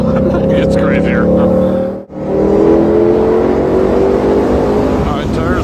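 A race car circles a track on gentle warm-up laps to bring its tires up to temperature, engine droning loud and steady with a brief dip before resuming.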